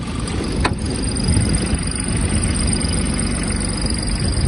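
A Kubota A-17 mini tractor engine idles steadily with a low, even rumble throughout, one faint click near the start, no voices.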